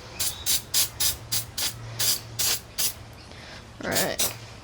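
Rust preventer sprayed from an aerosol can onto bare metal around a Toyota Supra tail light opening: a run of about nine short, close hissing bursts, then a longer final spray.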